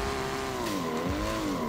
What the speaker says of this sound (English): Skids, let's go.